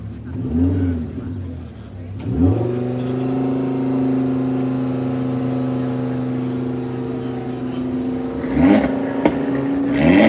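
An Audi engine rumbles and revs, rising sharply at the start, settling into a steady idle, then revving again near the end.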